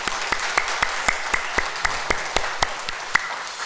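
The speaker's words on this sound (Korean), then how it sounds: "하나님께 우리 박수로 하나님께 영광 올려드리겠습니다" A church congregation clapping together during a Sunday morning service, a steady rhythmic beat of about a dozen firm, evenly spaced claps in a reverberant room.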